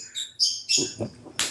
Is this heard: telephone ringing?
no